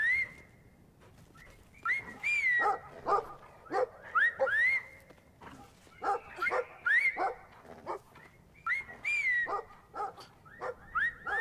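A dog in the Brothers video game barks in repeated bursts mixed with whimpers and whistle-like tones, fairly close and loud over a quiet background, with no speech.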